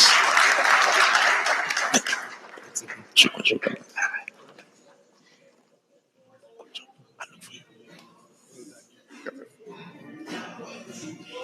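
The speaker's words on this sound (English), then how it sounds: "A round of applause, please, for Dr. Maynard." Brief audience applause rises at the start and fades within a few seconds at a citizens assembly, followed by scattered voices, murmurs and faint background noise.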